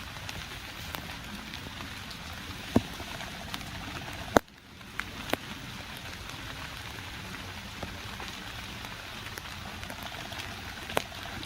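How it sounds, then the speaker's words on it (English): Steady rain patters continuously on a surface at a camp in a cemetery, a dense hiss of drops with a few louder close splats and a brief dip midway. "You could probably hear it raining."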